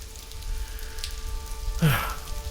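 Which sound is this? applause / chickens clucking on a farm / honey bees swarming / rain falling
rain falling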